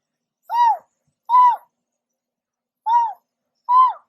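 A human voice imitates an owl, giving four separate soft hoots in an uneven rhythm, clear and close against silence.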